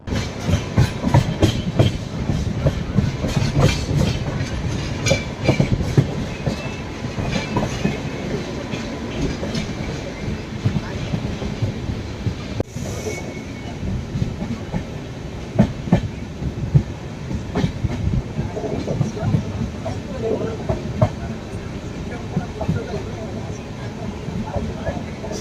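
The Pothigai Superfast Express running from Chennai toward Sengottai, with a continuous rhythmic clickety-clack of wheels over rail joints and a steady rumble heard from inside the coach, with people talking.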